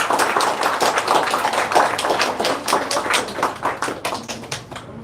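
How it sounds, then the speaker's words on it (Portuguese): An audience at a lecture-series talk claps steadily for about five seconds, with dense, fairly loud hand claps and no speech over them. "Podem bater palmas para vocês."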